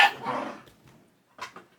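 A dog gives a short bark followed by a second, briefer yelp after a pause, fairly close, in a quiet indoor room.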